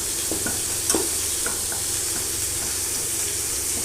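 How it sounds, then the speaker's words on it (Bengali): Chilli and cumin sizzle in hot oil for a boiled potato dish, a soft, steady frying hiss broken by a few light clinks and scrapes of stirring. "আর এই আলু সিদ্ধতে লঙ্কা জিরে ভেজে দিই।"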